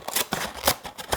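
Scissors snip through pieces of styrofoam for recycled art, a quick run of four or five close, crisp cuts.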